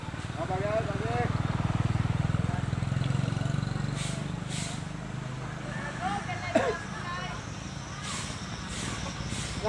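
A motorcycle engine rumbles steadily nearby with a low droning tone, while people talk over it and other traffic noise passes in the background.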